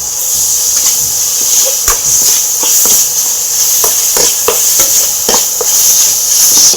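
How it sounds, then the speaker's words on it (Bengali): Ground cumin, coriander, garam masala and turmeric sauté in a pan, a loud continuous sizzle and hiss broken by scraping stirs from a spatula. "এবার সব কটাকে আমি ভালোভাবে কষে নেব।"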